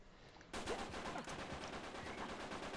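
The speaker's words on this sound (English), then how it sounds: "stop shooting me" Uncharted 3 co-op gunfire breaks out after a quiet half second: a dense, loud stream of rapid shots and bursts continues without pause to the end, with no talk over it.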